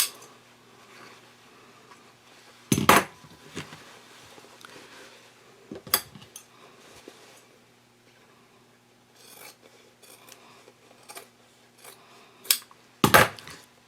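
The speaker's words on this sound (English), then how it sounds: "I do want to clip these seams down to 1/4 of an inch" Scissors clipping the fabric corner seams of a drawstring tote bag down to a quarter inch: several crisp, isolated snips spread out between quiet stretches, with faint rustling of cloth in between.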